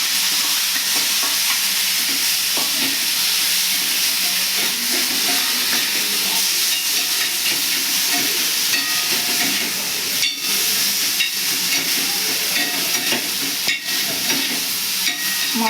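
Fish pieces with lightly salted onions stir-fry in a hot pan for a fish egg roll. A loud, dense sizzle runs continuously, with occasional sharper crackles and scraping stirs and no talking.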